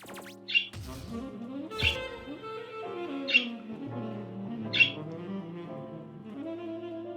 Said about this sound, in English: Yes, birds.